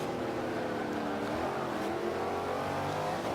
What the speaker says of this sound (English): now you can see that the speed car accelerates very well